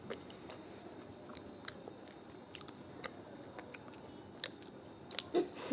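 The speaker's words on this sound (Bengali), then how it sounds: "আরও চেটে চেটে খাচ্ছে" Someone eating chickpeas soaked in tangy tamarind water, with soft wet chewing and biting sounds close to the mic over a quiet background, plus a few sharper clicks near the end.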